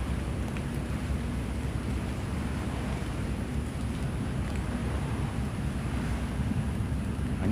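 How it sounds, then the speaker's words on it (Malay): Steady, dense low roar of strong wind buffeting the microphone, constant and loud throughout with no voices. "Angin kuat."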